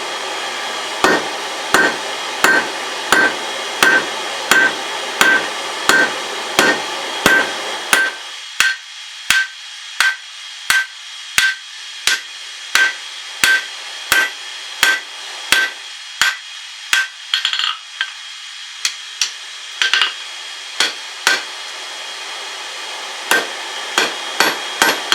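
Hammer blows strike hot steel on an anvil while knife tongs are forged. Sharp metallic impacts ring out in a steady rhythm about once a second for the whole stretch, close and loud, and grow slightly lighter partway through.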